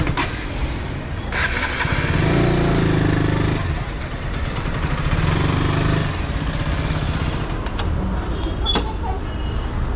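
Motorcycle engine starting and idling in a temple parking lot in Bengaluru, a loud, close, rough rumble that swells twice and then settles, with faint voices in the background.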